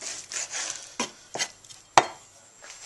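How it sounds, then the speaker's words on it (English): A knife slices through cooked carne asada steak, cutting thin pieces with the grain, making three or four short, close, distinct cutting strokes with quiet pauses between them. "make sure you don't slice it too thick and that you slice it with the grain"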